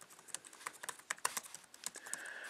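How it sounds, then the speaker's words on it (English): Typing on the chiclet-style keyboard of a Chrome OS CR-48 notebook: a quick, irregular run of soft, close key clicks and taps, heard alone without voices. "The keyboard is a chiclet style, and it actually is very comfortable to type on."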